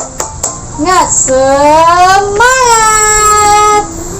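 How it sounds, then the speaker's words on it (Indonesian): A few sharp claps, then a class of schoolchildren chants a short, rising sing-song Indonesian clapping chant together, loud and close. "mari kita tepuk semangat secara bersama-sama terlebih dahulu ya"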